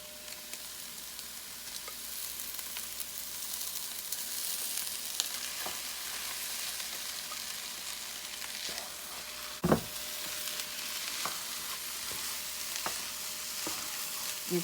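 Shrimp fried rice with peas and cooked rice sizzles steadily in a hot pan, with a constant frying hiss and occasional scraping stir strokes, close and without talk.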